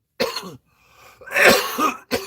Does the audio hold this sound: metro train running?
no